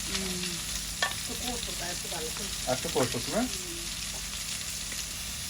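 Onions and spices fry in a pan with a constant sizzling hiss and occasional stirring scrapes, as a person talks briefly over the cooking.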